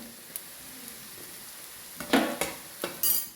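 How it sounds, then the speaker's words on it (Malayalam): Chicken masala with chilli flakes and spices stirred in a frying pan, giving several short scraping strokes over a soft background sizzle, fairly close and with no voices. "എല്ലാം കൂടി ഒന്ന് യോജിപ്പിക്കാം"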